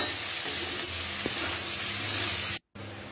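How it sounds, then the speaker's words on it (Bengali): Capsicum being stir-fried in a pan for mixed fried rice, a loud, close, steady sizzle with light stirring, broken by a short pause near the end. "ক্যাপসিকাম দিয়ে বন্ধুরা বেশি ভাজার প্রয়োজন হয় না, হালকা নাড়াচাড়া করলেই ক্যাপসিকাম"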